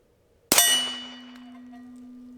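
A single sharp report from a suppressed pistol fired at a target 12 yards away, close and loud, followed by a long ringing metallic tone as the steel target hums and decays.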